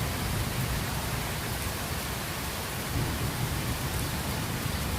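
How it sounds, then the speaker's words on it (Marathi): Rain falls steadily in a dense, even hiss that carries on without a break, with a low rumble beneath it and no voices. "चला आता तुम्ही आनंद घ्या आमच्यासोबत पावसाचा."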